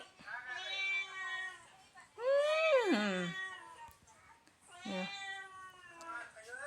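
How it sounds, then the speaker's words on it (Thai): Cat meowing indoors, three drawn-out, wavering meows spaced a few seconds apart, close and fairly quiet. "เจ้าเหมียวไม่ต้องร้อง"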